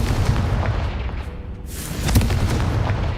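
Spell blast from the Confringo charm in Hogwarts Legacy, a loud booming burst with rumbling low end, a brief dip, then a second explosive impact that sustains dense and close through the end.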